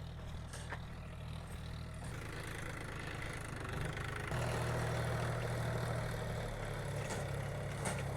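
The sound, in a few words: tractor engine idling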